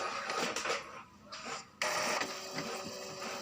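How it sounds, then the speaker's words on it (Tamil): An inkjet printer powers on after clearing a red LED error, its print head shuttling back and forth with whirring mechanical bursts, stops and clicks, close and fairly loud, with no talking. "பிரிண்டர் இப்போ நல்லாவே ஆன் ஆகுது, ஹெட்டு மூவ் ஆகுது"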